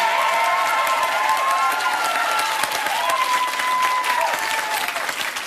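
Television game show studio audience on Millionaire Hot Seat applauds and cheers steadily and loudly throughout, with whoops rising above the dense clapping.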